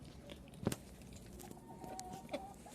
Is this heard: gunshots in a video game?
no